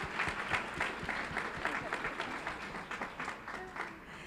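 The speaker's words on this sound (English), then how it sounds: "Another round of applause, why don't we?" Applause from a school board meeting audience for performers leaving the stage, a steady round of moderately loud clapping from a crowd in a hall, continuous throughout.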